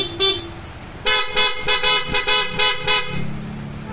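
A loud electric PIAA motorcycle horn with selector honks in a quick series of short blasts, one brief toot first, then about seven rapid honks, close by.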